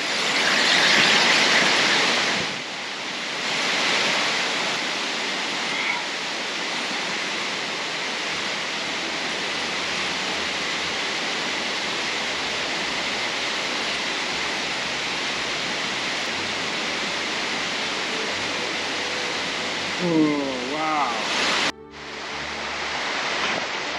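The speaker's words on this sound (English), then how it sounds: "So yeah, this was one of the best waterfalls that I ever seen." A powerful waterfall in Iceland in winter roars as a steady, broad rush of falling water, close and loud, with a brief whoop from a voice near the end.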